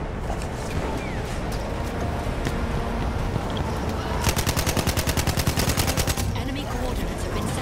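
Rapid gunfire in the Battlefield 1 video game, with a burst of about fifteen evenly spaced, loud shots amid constant battlefield noise and wind, where a shotgun is the weapon in use.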